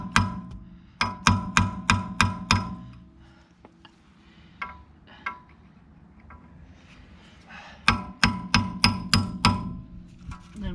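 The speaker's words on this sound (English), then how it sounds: "See if you can get it off with the chisel." A chisel is hammered against a rear wheel hub part on a 2007 VW Beetle, sharp metallic strikes in two quick runs of about six blows each, with a few lighter taps and faint shuffling between them.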